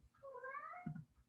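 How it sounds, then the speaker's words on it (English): A hungry male house cat gives a single drawn-out meow, rising then falling, fairly faint and indoors, followed by a brief low thump, with no talking. "You're probably going to hear my cat in the background. He's hungry."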